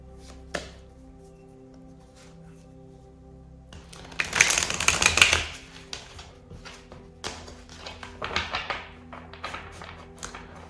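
Cards are shuffled for a tarot card reading, with isolated taps, then a dense riffling burst in the middle, followed by lighter scattered card taps and flicks, close and fairly quiet.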